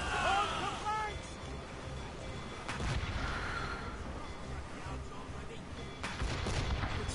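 Ship cannons fire during a naval battle in Assassin's Creed Rogue Remastered: booming shots land at irregular intervals over a dense roar of battle noise, mixed with shouted commands.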